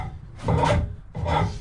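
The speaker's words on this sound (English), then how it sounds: "So I would just use a regular file." Hand file rasping a wooden furniture leg while shaping a chamfer, two firm scraping strokes in close succession, loud and close with no talk.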